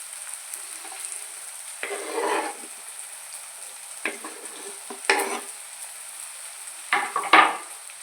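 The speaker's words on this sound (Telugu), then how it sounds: "ఉల్లిపాయలు టమాటాలు బాగా ఫ్రై అయిపోయాయి" Onions and tomatoes frying in a pan, a soft steady sizzle with several bursts of stirring and scraping spread through, close and fairly quiet.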